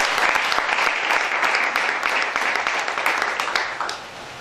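A church congregation applauds steadily for about four seconds, a dense, loud wash of many hands clapping that fades slightly at the end.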